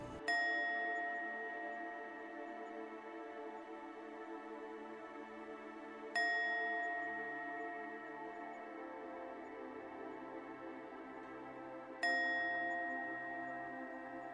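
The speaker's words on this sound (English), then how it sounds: "You will hear a series of 3 chimes starting now." Three resonant chimes ring out to clear the space before an energy reading, each struck about six seconds apart with a bright onset and a long, shimmering decay, heard alone in a quiet room.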